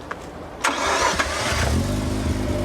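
A Mazda RX8 starting up in icy conditions: a few sharp clicks and the whir of the starter cranking, then the engine catches and settles into a loud, steady low idle, recorded close.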